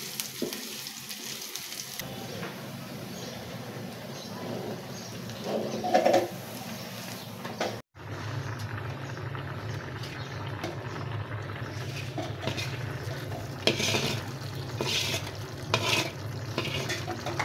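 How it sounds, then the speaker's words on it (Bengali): Spices and cinnamon crackling as they temper in hot oil in a home kitchen pan, a steady sizzle with stirring and clinks of utensil on the pan, and a brief pause midway before the frying resumes. "আমি একটু এটাকে ফোড়ন দিয়ে নেই।"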